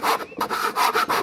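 A Japanese pull saw forced hard into a wooden cut, binding as it goes: loud, rough rasping strokes in quick repeated bursts with a brief pause early on.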